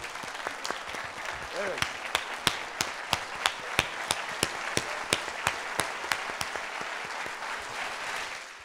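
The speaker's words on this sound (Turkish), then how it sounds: "ben istiyorum ki herkes ayağa kalkıp öyle alkışlasın" Audience at a municipal music awards ceremony applauds loudly, the dense crowd clapping settling into a steady unison rhythm of sharp claps before loosening again, with a brief voice rising over it.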